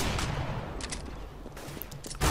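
Rapid Tec-9 pistol shots in Counter-Strike: Global Offensive crack in short bursts over game ambience, ending with a louder close shot.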